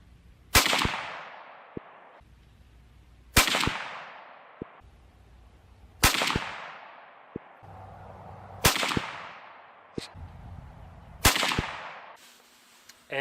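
A Ruger American rifle in 7.62x39 fires steel case ammo at a 100-yard range: five sharp, loud shots spaced a few seconds apart, each followed by a short decaying echo, with faint handling clicks between them.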